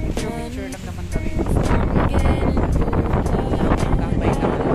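Strong wind at a seashore beach, buffeting the microphone in loud, rumbling gusts that swell after the first second and stay heavy throughout.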